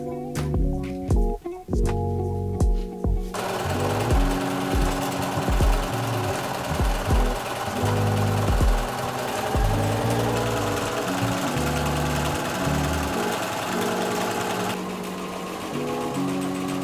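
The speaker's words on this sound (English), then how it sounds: "and then we'll sew around it." A sewing machine runs in short and longer stitching bursts while binding is sewn around the edges of a vest, close and fairly steady with brief pauses.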